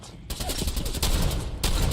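Rapid bursts of gunfire from a Fallout 4 firefight, loud and dense, with sustained volleys that surge twice as new strings of shots begin.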